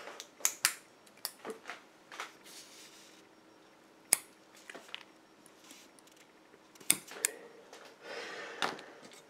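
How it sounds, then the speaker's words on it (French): Scissors snip cotton wick trimmed at the sides of a Galaxies MTL squonk RDTA vape atomizer, sounding as a scattered series of sharp, close clicks and crisp cuts with quiet pauses between them. "Je vais couper mon coton sur les côtés."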